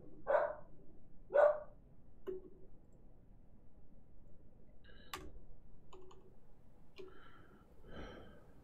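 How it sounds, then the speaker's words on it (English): Two short dog barks from Dwarf Fortress, faint and spaced about a second apart, followed by light ticking game sounds in a quiet backdrop. "Dog says woof."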